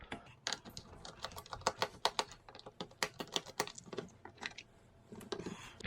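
Small Phillips head screws being removed from the plastic back cover of a cheap Hyper Tough multimeter give a close run of rapid, irregular clicks and light ticks with no talking.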